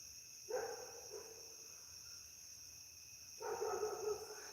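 A dog barks in two short bursts from some distance down a rural farm road, with steady insect or cricket buzzing throughout the quiet background.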